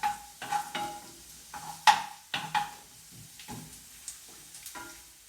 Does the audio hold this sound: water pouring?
no